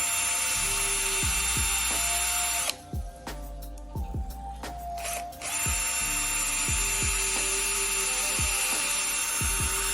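A drill bores repeatedly into an old pine trunk at different angles, its steady high whine running loud and close with a brief dip in the middle, punctuated by recurring knocking thumps.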